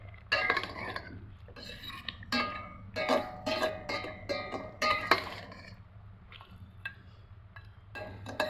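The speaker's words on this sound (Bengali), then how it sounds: "এখন আমি মাংসটা নেড়ে দিচ্ছি। নেড়ে আমি ভালো মতো কষিয়ে নেব।" A spoon stirs beef with garlic in a steel cooking pot, the pot shifting as it is stirred, giving close, irregular metallic clinks and scrapes in quick bursts over a low steady hum.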